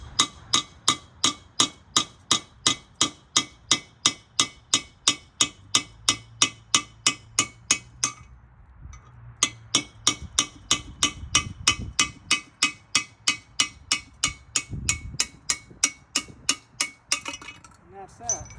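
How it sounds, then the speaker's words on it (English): Steady hammer blows on a dull chisel drive a worn bushing out of a transmission tail shaft housing: about forty sharp metallic clinks at a fast, even rhythm with one brief pause, loud and close, with no talking. "that's where you want to drive with a chisel"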